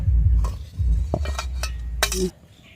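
Fish curry is poured from a cooking pot, with a low rumbling pour followed by several sharp clinks of metal dishes and utensils close by, ending abruptly into quiet.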